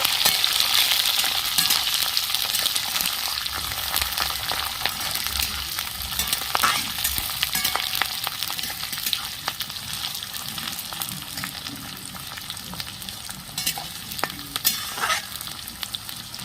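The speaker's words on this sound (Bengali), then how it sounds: "পেঁয়াজ আদা কুচি রসুন কুচি তেলে একটু নেড়ে নেব সব কিছু" Chopped onion, ginger and garlic stirred in hot oil, making a continuous loud sizzle with repeated scraping and clattering stirs, close by and without speech.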